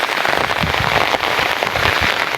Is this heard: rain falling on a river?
yes